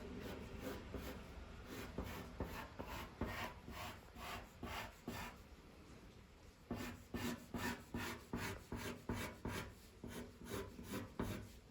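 A pencil scratches lines onto paper in a repeated rhythm of short rasping strokes, close and fairly quiet, with a brief pause midway before the strokes resume.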